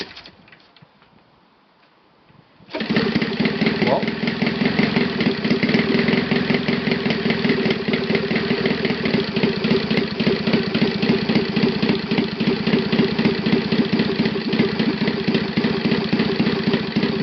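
A refurbished Saito FA 270T model aircraft four-stroke engine is hand-started after a short quiet stretch, catching abruptly and then settling into a steady, close, loud idle with a fast rhythmic ticking beat.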